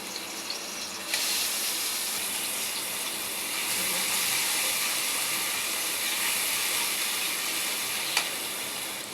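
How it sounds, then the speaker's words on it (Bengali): Onion, ginger and garlic paste frying in a hot pan for a fish-head curry, giving a steady broadband sizzle that swells partway through and holds, with a small clink near the end and no talk. "একটু আগে ভাজা দিয়ে নিলাম আদা রসুন পেস্টটা"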